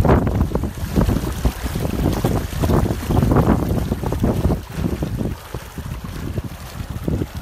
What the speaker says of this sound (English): the drains can't cope and they're rejecting the water